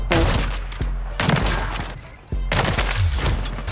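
Sniper rifle shots in Call of Duty MW3, loud sharp blasts with heavy low-end booms at roughly one-second intervals, each followed by a ringing tail and mechanical action noise.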